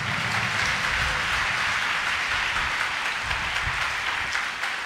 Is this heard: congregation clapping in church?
yes